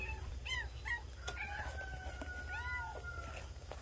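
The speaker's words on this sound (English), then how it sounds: "Yep, they're all meowing." Several cats meow repeatedly, with short, rising and falling cries overlapping at close range over a steady low hum.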